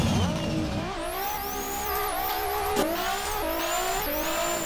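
A Nissan S15 drift car revs hard through gear changes while its tires squeal and smoke through a slide, the engine loud and close with rising pitch sweeps over a steady screech.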